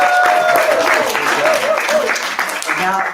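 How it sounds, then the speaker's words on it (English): Audience clapping at a talk on romance, love and longevity, heard as a steady, fairly loud patter of many hands, with a voice talking over it throughout. "clapping. Get excited."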